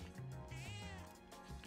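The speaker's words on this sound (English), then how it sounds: "Stray Cat." A stray cat in Persona 3 Reload gives a short, clear meow over soft background game music.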